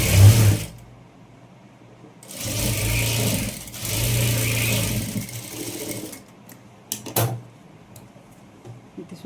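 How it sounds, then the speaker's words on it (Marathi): A sewing machine stitching a blouse runs in two bursts of steady motor whir, a short one at the start and a longer run of a few seconds, with brief clicks and handling between them. "इथे सुद्धा मी बारीक टीप घेणार आहे."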